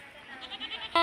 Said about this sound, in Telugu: ఇది మా చిన్న మేక చిన్న చిన్న మేక